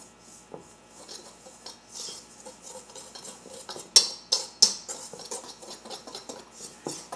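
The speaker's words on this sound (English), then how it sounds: "And give that a good mix up." A yeast and flour mixture is stirred in a bowl with a utensil, giving soft scraping and rubbing strokes with a few sharper clinks against the bowl, close and fairly quiet.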